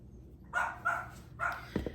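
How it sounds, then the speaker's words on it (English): A dog barks three times in quick succession, fairly close and loud, followed by a brief low thump or scuffle at the end. "that dog is driving me nuts"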